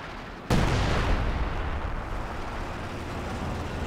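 A howitzer fires in a World War II strategy game battle: one sudden loud boom with a long rumbling decay, alone.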